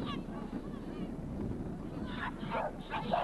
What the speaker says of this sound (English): the dog's pretty noisy as well